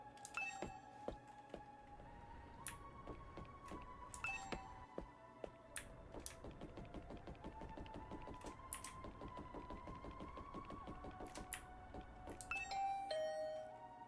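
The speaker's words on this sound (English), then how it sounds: "I rang the doorbell and could hear the bell ring on the other side of the door" A doorbell in The Hundred Line: Last Defense Academy: repeated electronic chime tones ring out several times over a busy stream of fast clicking, steady and close with no voices.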